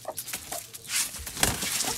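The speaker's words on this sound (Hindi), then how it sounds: "ये तो फाइट होगी इनकी दोनों की, ये मुर्गी और मुर्गे की" A hen and a rooster scuffle, with faint scratchy patter, soft clucks and flapping bursts, fairly quiet and without voices.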